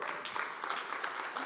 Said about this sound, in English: one more round of applause for all the teams, please.